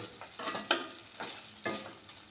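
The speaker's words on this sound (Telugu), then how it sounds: "రైస్ వేసిన తర్వాత మంచిగా కలుపుకోవాలి" A spoon stirs coconut rice in a hot pan, giving three or four close scraping strokes over a soft frying sizzle, with no voices.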